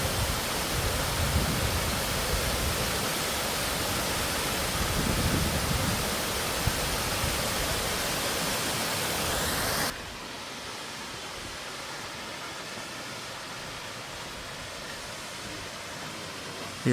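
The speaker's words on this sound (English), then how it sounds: "This waterfall is for you." Waterfall on the Superior Hiking Trail, a loud, continuous broadband roar of falling water that drops to a softer, steady rush partway through.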